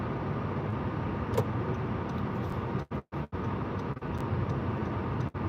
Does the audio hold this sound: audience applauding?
no